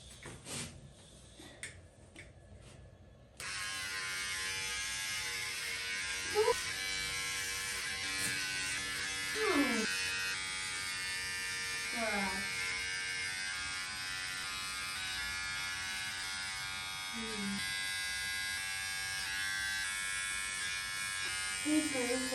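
Electric clippers shaving a boy's hair at home, a steady close buzzing hum starting a few seconds in and running without pause, with brief voices speaking over it now and then.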